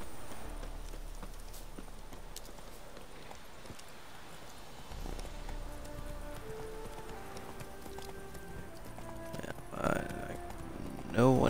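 Roach the horse's hooves clip-clop in The Witcher 3, a soft, steady walking rhythm under ambient game sound, ending with a louder snort or whinny.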